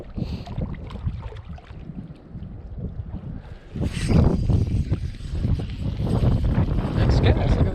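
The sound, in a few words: wind blowing at lake shore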